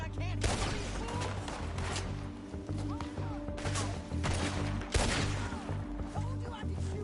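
Gunfire crackles through a Red Dead Redemption 2 shootout in several loud bursts over a steady game soundtrack, with people talking between the shots.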